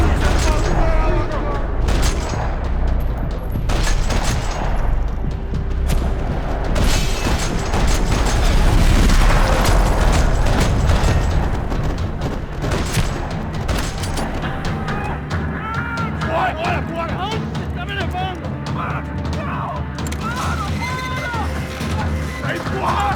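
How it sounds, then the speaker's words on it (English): Rapid bursts of gunfire and booming explosions in a parking lot in the video game Max Payne 3 crackle almost nonstop, loud and chaotic, with voices and music mixed underneath. "Another parking lot rattling with gunfire."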